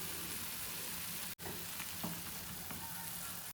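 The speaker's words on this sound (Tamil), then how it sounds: "5 நிமிஷம் ஆயிடுச்சு. நல்லா கொதிக்குது." Mushroom soup at a steady boil in a pot, a continuous soft bubbling hiss with a couple of brief clicks or cuts, close and fairly quiet, no talking.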